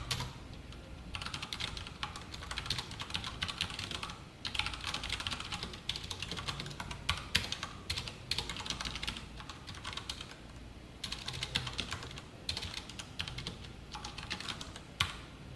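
Steady typing on a computer keyboard, with continuous rapid key clicks running through the whole stretch and a few short pauses between bursts; no talking.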